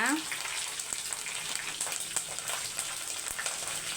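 Curry leaves sizzling in kuzhambu, a continuous bright frying hiss with scattered crackles and small pops at close range.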